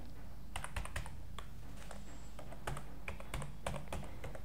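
Fingers type on a computer keyboard while filling in an online SBI PO application form, with irregular close key clicks in short bursts and pauses against a quiet room hum.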